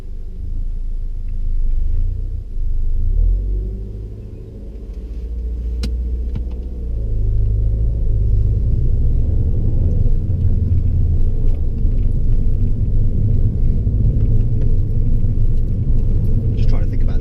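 Steady low engine and road rumble fills a car interior during a driving lesson, with the car pulling away and cruising on. People talk over the constant drone.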